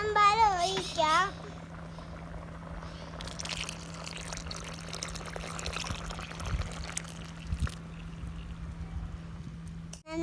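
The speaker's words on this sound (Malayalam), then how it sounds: "ഇപ്പോൾ ഒന്നാം പാല് ഒഴിക്കാം" First-extract coconut milk is poured into ada pradhaman, making a soft, steady liquid pour and trickle through the middle of the clip. A brief voice comes at the start, and a low hum runs underneath.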